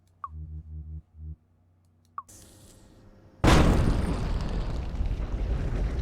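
An explosion blasts a hole in a wall in the Colossal Cave Adventure video game: a few soft clicks and low blips, a thin hum, then a sudden loud roaring burst that keeps rumbling until the end.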